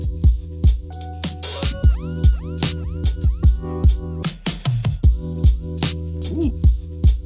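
A finished beat plays alone: a chopped sample cut into rhythmic slices over a heavily processed bass, with punchy percussive hits repeating steadily and a loud, full mix throughout.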